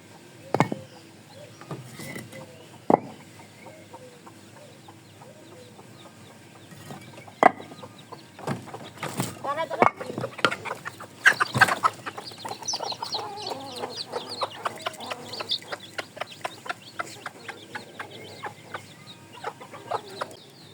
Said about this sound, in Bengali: এখন আমি মুরগিগুলো ছেড়ে দিই।